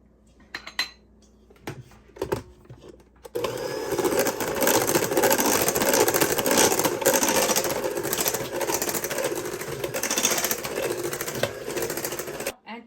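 A few clinks and taps come first, then an electric mixer whirs steadily for about nine seconds, beating butter pecan pound cake batter, loud and close before it cuts off.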